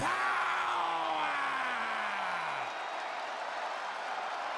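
Crowd applause and cheering from an arena in the wrestling video game WWE 2K25, a steady broad roar throughout with a single voice yelling briefly near the start.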